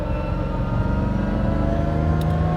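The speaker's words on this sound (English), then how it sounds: "Typical sound of the differentials." A Lamborghini drives with a steady, loud mechanical whine and engine drone from the differentials, heard close from inside the car with no talk.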